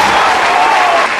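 Dense, steady clapping fills the moment, loud and close with a broad crowd wash and no pauses.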